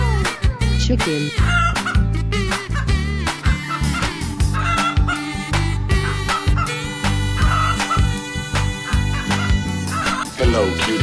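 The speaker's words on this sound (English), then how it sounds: "Chicken." A cartoon chicken clucks in a burst of squawky calls over loud, busy children's music in an animated wild-animals video.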